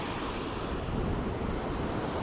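Ocean waves break on the shore in a dense, loud, steady wash of surf mixed with wind noise on the microphone.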